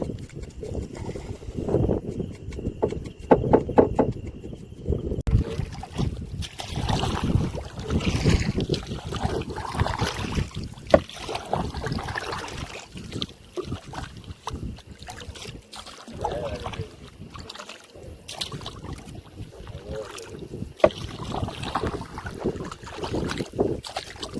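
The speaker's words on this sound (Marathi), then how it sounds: "मस्त की तुम्हाला आता वाऱ्याचा आवाज दिसत असेल" Wind gusts buffet a small fishing boat out on the water at night, a steady, broadband rush with rougher bursts and occasional knocks and rustles, close to the microphone, with no voices.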